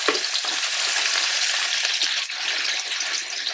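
Sliced onions sizzle and crackle in hot oil while being stirred for a mutton pulao, a steady close frying hiss with small pops and no voices.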